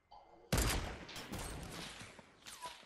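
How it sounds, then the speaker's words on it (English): Gunfire in the video game Fortnite: a quiet lead-in, then a sudden loud burst of shots that trails off into rumbling echoes and scattered impacts. "Nice shot, Jen."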